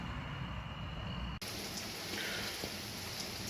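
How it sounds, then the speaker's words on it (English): Steady outdoor rain falling at night, a dense even hiss with scattered drops, which becomes louder and brighter partway through as if the listener moves closer or out into it. "I'm out here tonight filming in the rain"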